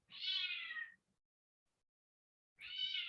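A cat gives two close, clear meows, each about a second long, separated by a stretch of near silence.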